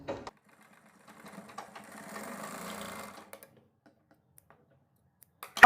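A sewing machine stitches a blouse in a brief burst of about a second, framed by quiet pauses and a few clicks of handling.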